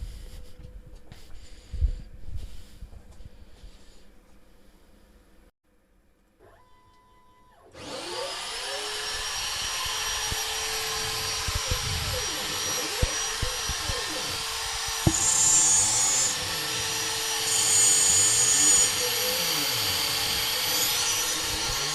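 CNC machine fitted with a double router starting up: quiet handling noises give way to a loud, steady high-pitched spindle whine with a constant droning hum that continues without a break.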